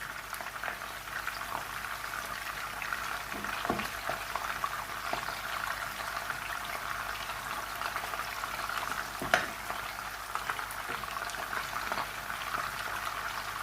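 Steady frying sizzle of lamb gola kebabs in a pan, with bubbling and occasional small pops, continuous and fairly close, no talking.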